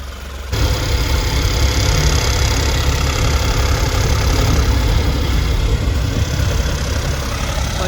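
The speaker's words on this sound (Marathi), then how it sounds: "हे बघा ना, इंजनचा आवाज किती आहे" A car engine with a fault runs loud and close, kicking in abruptly after a brief quiet, then holding a heavy, steady, rough drone throughout.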